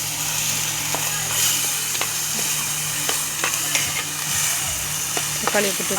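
Onions sauté in a pan for a prawn gravy cooked on a stove, giving a steady close sizzle with occasional crackles and stirring scrapes.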